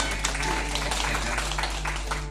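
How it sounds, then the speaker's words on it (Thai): An audience at a school evaluation event claps for the committee: a dense, steady wash of many hands applauding, with a low hum underneath and no clear gaps. "ขอพี่น้องเราปรบมือเป็นพิเศษให้กับคณะกรรมการ"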